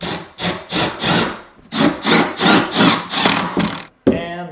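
Screws being driven into a wooden IKEA shelf during furniture assembly, a series of rhythmic grinding, rubbing bursts of roughly a second each, loud and close, with a brief pause before a final short burst.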